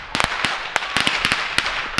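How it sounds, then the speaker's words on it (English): Firecrackers go off nearby in a rapid irregular string of sharp, loud cracks, roughly a dozen bursts in two seconds, heard outdoors with no talking. "they're just setting off firecrackers right now."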